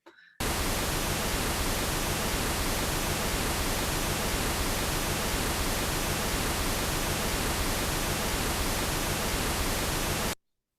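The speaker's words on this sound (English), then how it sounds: "listen to the pink noise, but we can observe how the pink noise looks in different machines" Pink noise test signal played back through a speaker, a dense, steady hiss that starts abruptly, holds at constant level for about ten seconds, then cuts off cleanly.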